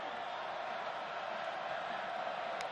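Stadium crowd at a college football game between NC State and Wake Forest, a distant, steady roar of many voices with no distinct peaks, faint and continuous.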